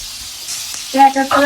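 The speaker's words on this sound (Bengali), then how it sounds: "তেলটাও গরম হয়ে গেছে তো আমি একটু হালকা করে চিংড়ি মাছগুলো ভেজে নিব" Golda prawns coated in spice masala fry lightly in hot oil for a Bengali kochur loti recipe, giving a steady, soft sizzle throughout, with a brief voice-like tone rising near the end.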